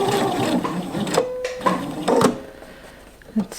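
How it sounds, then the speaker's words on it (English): A sewing machine stitching lining into a garment in short bursts, the needle whirring and rattling close up, then stopping briefly between runs. "So I'm just going to start sewing"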